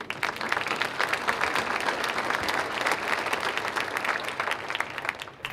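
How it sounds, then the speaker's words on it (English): Audience applause at a Coeur d'Alene State of the City address, a steady, dense burst of many hands clapping, moderately loud and continuous for several seconds without talk. "So let's start out by giving yourself a big round of applause."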